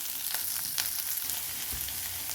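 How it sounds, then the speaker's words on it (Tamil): Green chilies and sliced big onions sautéing in a tempering of urad dal, a loud, dense crackling sizzle with stirring, close and continuous, no speech. "அதுலேயே பச்சை மிளகாய், பெரிய வெங்காயம் கட் பண்ணி வச்சுருங்க, அதை போட்டு வதக்கிக்கலாம்"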